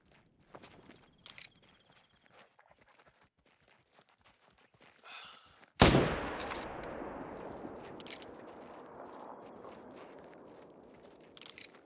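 A single loud rifle shot at a male black bear in theHunter: Call of the Wild, a sharp crack with a long rolling echo, following quiet footsteps and rustling.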